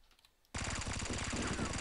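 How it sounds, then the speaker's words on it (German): An MP5K SD submachine gun in the Half-Life mod Firearms opens up after a brief quiet moment, a rapid, even stream of suppressed shots rattling close and loud until the end. "Gucken wir mal, was die MP5K SD macht."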